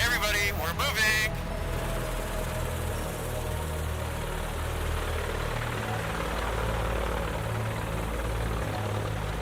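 A small airplane's engine drones steadily while taxiing, heard from inside the cabin as a constant low hum, with a brief burst of other sound right at the start.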